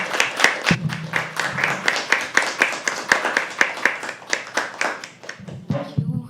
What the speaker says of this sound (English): You guys know what to do? Start clapping, start clapping, start clapping, start clapping.